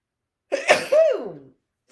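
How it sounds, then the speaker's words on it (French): A woman sneezes once up close: a sharp inhaled catch, an explosive burst, then a voiced trailing tail. "on dirait que je vais éternuer"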